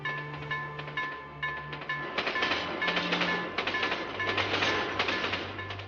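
A monorail train approaches with a rhythmic clickety-clack of wheels, sustained humming tones and a rolling rumble that grows louder over several seconds.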